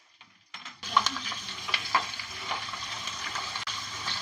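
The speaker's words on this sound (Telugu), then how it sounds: "ఇప్పుడు ఇగో ఇలా తాలింపుల తెల్లుల్లు వేస్తున్నా" Garlic dropped into hot oil for a tomato pickle tempering, bursting into a loud, steady sizzle that carries on close up, with a few stirring scrapes and no talking.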